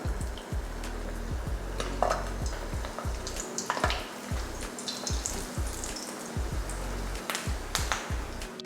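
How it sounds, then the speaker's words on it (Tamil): Mutton kofta balls (kola urundai) deep fry in hot oil, giving a dense, continuous bubbling sizzle with crackling pops throughout, close and alone without talk. "இப்போ எண்ணெயும் காஞ்சிருச்சு. இப்போ பொரிச்சு எடுத்துடலாம்."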